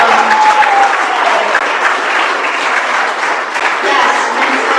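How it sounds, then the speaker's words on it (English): An anniversary party crowd gives a round of applause, a dense and loud burst of clapping that holds steady throughout with a brief voice rising over it near the start. "can we just beg a round of applause for all these people?"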